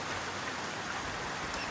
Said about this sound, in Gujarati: તમે ખાલી ગાઈસ વરસાદ જુઓ મારા વાલા